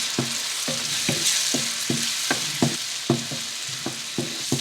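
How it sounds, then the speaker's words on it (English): Onions and pureed tomatoes sauteing in oil, a steady close sizzle punctuated by a regular rhythm of spoon or spatula taps against the pan, about two per second throughout. "And now we're going to saute this till the oil begins to separate"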